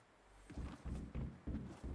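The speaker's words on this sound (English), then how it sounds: "I hear footsteps." Footsteps in the Fortnite video game, a series of dull rhythmic thuds, about four or five steps close by, heard alone.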